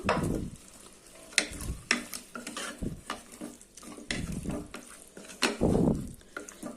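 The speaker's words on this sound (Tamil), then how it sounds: "ஒரு ரெண்டு நிமிஷம் நான் சிக்கனை வதக்கிட்டேன்" Chicken sautéing in a pan for chicken rasam, with steady close sizzling broken by repeated scraping, stirring and clinks of a utensil against the pan, no voices.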